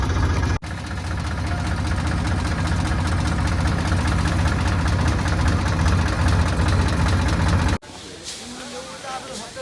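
A tractor engine idles in a queue of tractors at the Upleta market yard, a loud, steady, knocking rumble that runs continuously and then cuts off abruptly near the end, leaving quieter background sound. Voices may be present.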